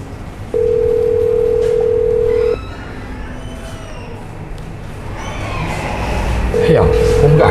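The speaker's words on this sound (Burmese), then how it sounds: "ခရင်ကဖုန်းဆက်ကြည့်လိုက်အောင်ကွာ" A steady telephone dial tone sounds for about two seconds as a call is placed, then stops, returning briefly near the end amid rising background noise and voices.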